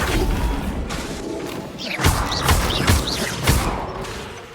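Spells cast in combat in Hogwarts Legacy, a run of sharp magical whooshes and thudding impacts that land about once a second, loud and punchy, with game effects layered between.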